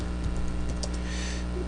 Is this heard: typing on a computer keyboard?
yes